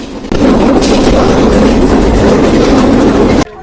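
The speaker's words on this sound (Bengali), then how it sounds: "পোড়াদা রেলওয়ে স্টেশনে আমাদের ট্রেনটি চলে এসেছে" Rupsha Express train pulling into Poradah railway station in Bangladesh, heard as a loud, close, continuous rolling rumble with rattling that starts and stops abruptly, with no voices.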